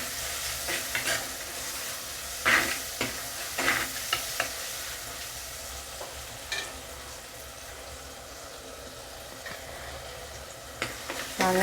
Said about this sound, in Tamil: தக்காளி போடலாம் தக்காளியும் கொஞ்சம் வதங்கட்டும்